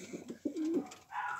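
Pigeons coo nearby in soft, throaty rolling calls, a couple of short murmured phrases followed by a longer drawn-out coo.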